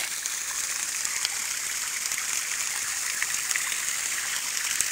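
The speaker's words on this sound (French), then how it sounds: "voilà l'arrivée de l'eau que nous avons canalisée" Water pours steadily from a buried pipe into a newly dug fish-farming pond, a continuous close splashing gush that stays even throughout with no talk.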